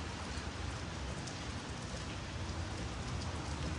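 Steady rain falls and patters on surfaces outdoors, a dense, continuous hiss of drops that stays even and fairly close throughout, with no voices over it.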